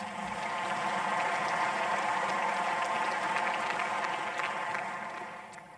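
An audience applauds industrialists at a Black Industrialists event keynote, a dense, steady wash of many hands clapping for several seconds, loud and sustained before tapering off near the end.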